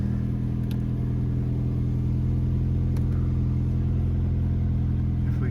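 A Mini John Cooper Works engine idles steadily with a deep, even rumble, heard close and constant throughout with no talk.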